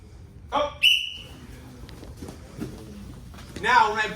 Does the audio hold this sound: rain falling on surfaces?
no